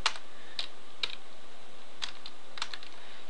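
A handful of separate keystrokes on a computer keyboard, spaced about half a second to a second apart, crisp and close over a steady background hiss.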